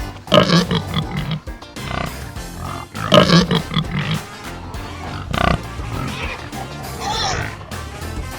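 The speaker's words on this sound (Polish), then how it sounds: "Świnia chrumka." A pig on a farm grunts and oinks in several rough, throaty bursts separated by short pauses, close and fairly loud with no other sounds around it.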